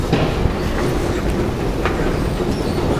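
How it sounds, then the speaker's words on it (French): Rumbling train noise in a Prague metro station while riding a steep escalator down into the subway, a steady loud roar with faint clacks and no talking. "maintenant je vais vous filmer une impressionnante descente de métro dans Prague"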